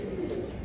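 A female pigeon gives a short, low, throaty coo up close, faint and brief with no talking.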